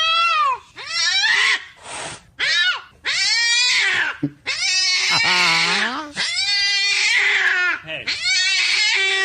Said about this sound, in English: this is actual audio of a cat looking out a window.